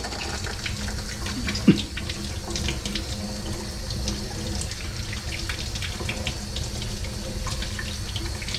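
Tap water runs steadily into a sink while a Preval sprayer jar is rinsed, a continuous close splashing stream with one brief knock partway through and no talk.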